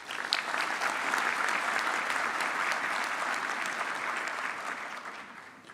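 A large audience at a university spring graduation ceremony gives a sustained, dense round of applause, steady and full throughout before tapering slightly at the end.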